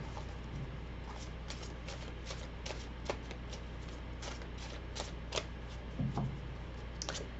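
Tarot cards are shuffled in soft, scattered riffles and flicks, a few sharper snaps standing out against a quiet, steady background hum, with no voices.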